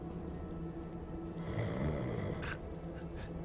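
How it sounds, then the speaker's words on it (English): A sleeping character in the video game Hogwarts Legacy snoring loudly, a long rasping inhaled snore rising and fading over steady background game ambience. "That's a big snoring."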